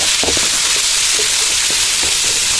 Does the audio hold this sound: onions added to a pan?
yes